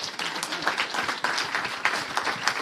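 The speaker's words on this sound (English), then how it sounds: "Could you please give them a round of applause?" A crowd at a music industry summit applauds steadily, many hands clapping in a dense, continuous patter at moderate loudness.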